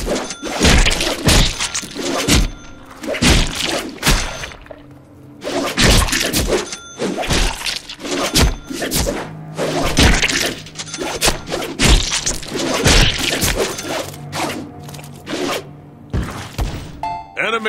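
Repeated thumping and smashing melee blows in the Deadpool video game, light and heavy attacks landing in irregular clusters of sharp impacts, with talk over the fighting.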